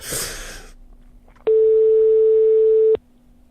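On a live radio broadcast, a telephone call to a listener produces a single loud, steady electronic tone lasting about a second and a half, preceded by brief noise and followed by quiet line hiss.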